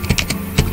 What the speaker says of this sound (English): I'm gonna type it in.